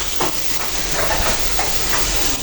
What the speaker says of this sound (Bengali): এখন ডিমটা দিয়ে দিব।